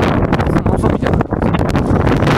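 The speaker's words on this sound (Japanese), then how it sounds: "風が強いです。 台風並みだ。" Strong wind buffets the microphone outdoors at a film-set village, a loud, continuous roaring rush with gusty surges and no clear voices.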